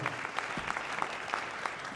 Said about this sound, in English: Give Charlie and Jackie a round of applause.